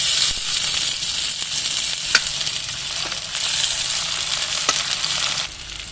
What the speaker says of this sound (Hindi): अब हम इसमें बारीक कटे हुए टमाटर और हरी मिर्चें डालेंगे।